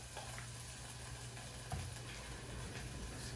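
Food fries in oil in a saucepan with a steady, close sizzle that holds throughout, marked by a brief stir or bump partway through; no voices.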